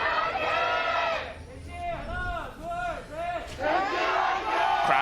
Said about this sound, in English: Crowd cheers?